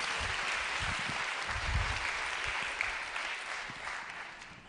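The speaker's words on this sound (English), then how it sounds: "give Max a big round of applause" A business talk audience gives a speaker a big round of applause, sustained dense clapping at an even level that tapers slightly toward the end.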